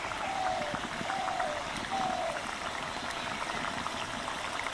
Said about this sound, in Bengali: বেশি নাড়াচাড়া করব না, এভাবেই আমি 2 থেকে 3 মিনিট মতো ফুটিয়ে নেব